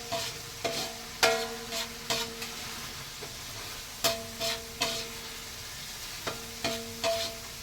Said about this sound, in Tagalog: Nangag na bawang.